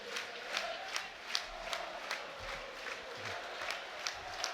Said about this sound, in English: Now it's Rathbone getting his name sung out.